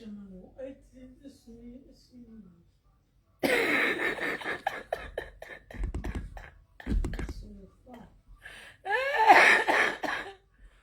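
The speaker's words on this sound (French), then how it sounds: "Elle dit que c'est quelle façon de tousser fort." A burst of loud, harsh coughing breaks out after a quiet stretch, several hacking coughs in a row, ending with a strained, raspy fit.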